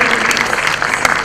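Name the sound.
audience round of applause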